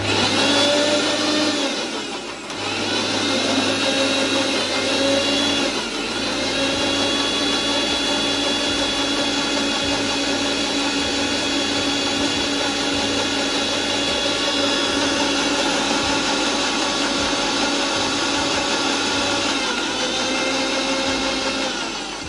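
A blender grinds a smoothie with a loud, steady motor whine that dips briefly near the start, then runs on without a break.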